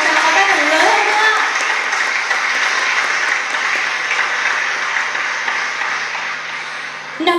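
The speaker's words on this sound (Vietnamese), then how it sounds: "Xin mời quý vị dành một tràng pháo tay thật lớn hơn nữa." Wedding guests give a large, sustained round of applause at a Vietnamese ceremony. The dense clapping stays loud throughout and slowly tapers near the end.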